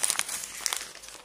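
A piece of paper crumpled by hand, a close, continuous crackling crinkle with bright sharp crackles throughout, heard alone.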